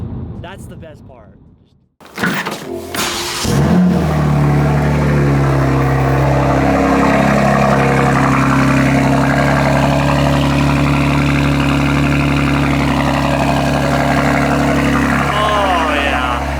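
A BMW G87 M2 with a full titanium equal-length exhaust starts a fourth-gear pull: a brief lull, then a loud engine drone that climbs steadily and sustains, with someone talking over it.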